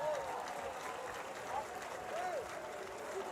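Many hands clap steadily at a lively gathering, a dense, continuous patter with voices and brief high tonal calls mixed in throughout.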